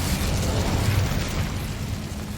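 A roaring burst of the Incendio fire spell in Hogwarts Legacy, a sustained, rumbling whoosh of flame with crackling texture, loud and steady across the whole moment.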